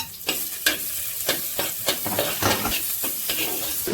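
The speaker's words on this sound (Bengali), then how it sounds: "আমি রসুন কুচিটা একটু প্রথমে লাল করে ভেজে নেব" Chopped garlic frying in oil until reddish, with a close, steady sizzle and rhythmic scraping strokes of a spatula stirring the pan about every half second.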